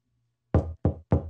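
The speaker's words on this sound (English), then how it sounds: "Somebody is knocking at the door." Three firm knocks on a door after a moment of near silence, evenly spaced, close and loud.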